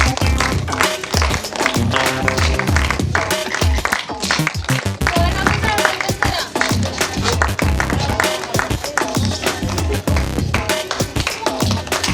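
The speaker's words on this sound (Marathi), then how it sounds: "जोरात जोरात टाळ्या, जोरात जोरात" An audience at a news channel's game show claps loudly and energetically, dense overlapping hand claps with taps and voices mixed in, sustained without pause.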